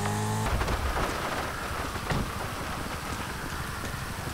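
Steady rain in Grand Theft Auto V hisses and patters over a low rumble, with a brief tonal sound at the very start and scattered louder drips throughout.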